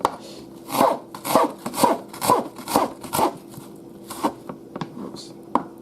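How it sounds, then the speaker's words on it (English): A knife cutting onions for crab and sweetcorn soup, heard as a steady series of close, rasping strokes that slow and become more scattered toward the end. "And all we just do is we just cut the onions."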